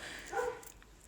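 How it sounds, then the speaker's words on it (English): A single short dog bark sounds in the background, muffled and moderately distant, over low room noise. "I apologise for the barking dog in the background."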